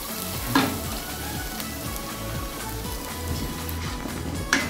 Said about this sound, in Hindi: सिम करके गैस मसाले को भुनने दीजिए।